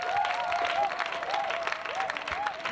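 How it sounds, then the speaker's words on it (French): A crowd at an evangelism crusade keeps up continuous clapping and cheering, with a recurring warbling tone sounding beneath the noise. "Acclame le Seigneur."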